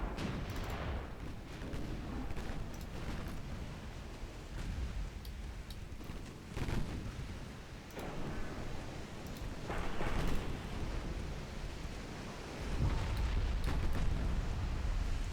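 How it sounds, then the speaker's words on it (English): A 12-inch naval gun shell strikes and explodes in a naval warfare video game, with deep booming blasts rolling over a continuous low rumble of battle, repeated several times across the stretch. "Nice hit. 12-inch gun it was."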